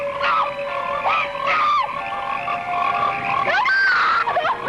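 Frogs croak in a loud, dense chorus of rising, warbling calls that carries on without a break under a soundtrack for the 1972 horror film Frogs.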